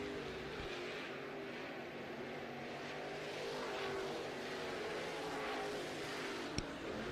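Late model dirt race cars run hot laps at Ponderosa Speedway, their engines a steady, distant roar that swells and fades slightly as they circle, with one short sharp knock near the end.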